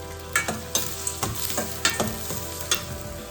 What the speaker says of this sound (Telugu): తర్వాత ఆనియన్ వేసుకుందాం. ఆనియన్ బాగా ఫ్రై అవ్వడానికి కొంచెం ఉప్పు వేసుకుందాం.